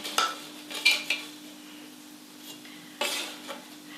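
A palette knife scrapes and taps against a non-stick baking tray as warm Scottish scones are lifted off, giving a few short, close metallic clinks separated by quiet pauses.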